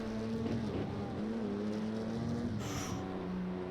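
A Ferrari Audi race car's engine droning steadily in a racing video game at the Catalunya circuit, tone rising and shifting through gears with a brief hiss near the end, no voices.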